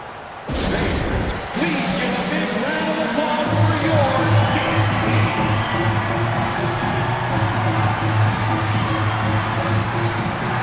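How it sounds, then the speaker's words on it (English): Crowd applause and cheering fill an NBA 2K25 basketball arena, a steady wash of noise rising suddenly after a brief pause and holding loud throughout, with a tonal arena sound layered underneath. "Please give a big round of applause for your"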